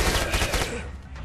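A rapid burst of MP5 submachine gun fire in the video game Killing Floor, loud and close, quickly tapering off within about a second.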